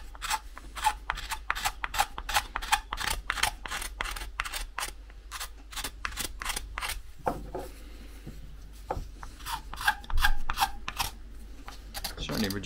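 A sharp knife scrapes across wood while a coffee scoop is hand carved, in quick repeated rasping strokes, close and crisp, with brief pauses between bursts.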